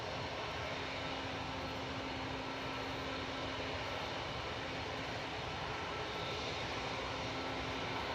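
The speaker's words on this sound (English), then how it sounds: "Erling's prop just coming in from Belfast, ATR 72, GCMJN" An ATR 72 turboprop airliner arrives from Belfast at Manchester Airport, a steady, moderately distant propeller-engine drone with a faint sustained tone running alone for several seconds.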